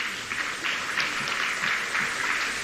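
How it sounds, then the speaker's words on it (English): Applause from the audience at a Nigerian measles-rubella vaccine campaign launch, a dense, steady patter of many hands that holds for the whole stretch at a moderate distance. "I can see that the loudest applause is coming from the First Lady."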